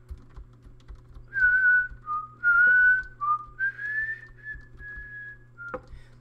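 Someone whistles a short wandering tune in a Minecraft Block Hunt game, clear and close. A low steady hum and soft keyboard clicks sit underneath, with a sharp click near the end.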